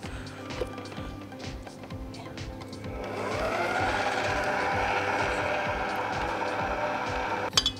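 An electric blender whirring as it mixes homemade bath salt with lavender flowers and lavender oil, starting after quiet background noise and running steadily and moderately loud.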